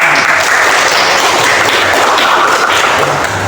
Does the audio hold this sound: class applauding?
yes